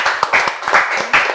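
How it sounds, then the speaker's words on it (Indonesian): An audience at a talk on vaccines claps in a brief, loose burst, a handful of distinct close hand claps in uneven rhythm over about a second. "Tepuk tangan dulu."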